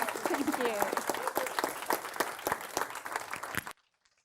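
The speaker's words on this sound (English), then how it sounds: "Give this amazing panel some claps" An audience applauds a panel at a conference on adolescent girls, a loud burst of many hands clapping with a few voices mixed in, fading slightly before cutting off abruptly.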